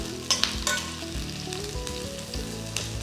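Onions with salt sauté in a pan until light brown for a tomato chutney, a quiet steady sizzle broken by a few scraping stirs near the start, with no talking.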